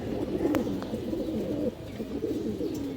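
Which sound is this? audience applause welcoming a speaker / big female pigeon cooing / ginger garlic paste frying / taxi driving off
big female pigeon cooing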